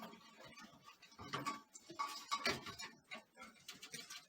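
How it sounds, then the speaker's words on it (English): A halo projector headlight is pressed into its housing during a restomod build, giving a run of light plastic clicks, knocks and rattles at close range, with no talking. "So we put the headlight in."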